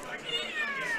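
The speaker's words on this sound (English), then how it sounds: "That's cat noises." A cat meows in a drawn-out, wavering tone from the Tekken 7 fighting game, heard faintly under busy game audio.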